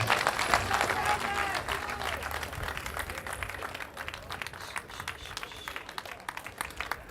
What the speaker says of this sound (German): riesiger Applaus für die German Rescue Ladies